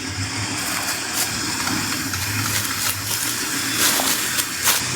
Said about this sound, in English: And I've also got the engine running